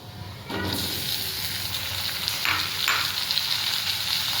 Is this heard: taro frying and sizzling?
yes